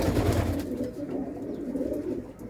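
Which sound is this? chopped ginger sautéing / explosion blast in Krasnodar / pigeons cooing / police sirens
pigeons cooing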